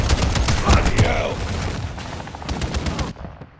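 Gunfire from a remote turret and other weapons crackles in a Modern Warfare 3 multiplayer match, rapid repeated bursts of shots with explosions and a voice speaking over the fight.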